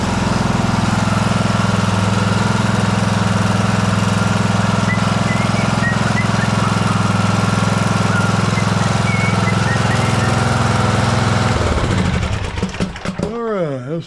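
A John Deere S100 lawn tractor engine idles loud and steady at close range, with a rapid even throb, then cuts off and sputters into silence near the end.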